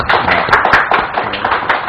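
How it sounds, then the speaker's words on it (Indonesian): A short burst of audience applause at a business talk, many hands clapping together densely and loudly with no voices, as a CEO speaker is introduced. "Kita beri tepuk tangan Pak Hasnul"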